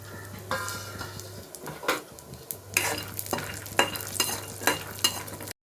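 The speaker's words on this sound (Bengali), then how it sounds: "এবার আমি বাদামগুলোকে এতে ভেজে নিচ্ছি।" Nuts frying in ghee in a hot wok, with a steady sizzle under repeated scraping and stirring strokes of a spatula against the pan, plus a few clinks of utensils.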